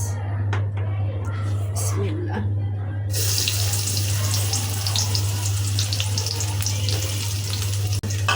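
Chopped onions hit a hot pan in a Bangladeshi kitchen, setting off a steady, loud frying hiss that swells and holds under a constant low electrical hum, with a few clatters at the start.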